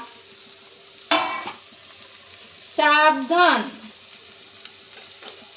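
Cooked rice fries with garlic in a hot pan and gets stirred, giving loud bursts of sizzling and scraping, while someone speaks briefly nearby.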